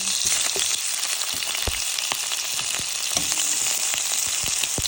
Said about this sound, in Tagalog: Ilagay muna natin yung chicken. Lutuin muna natin siya. Hanggang maging brown.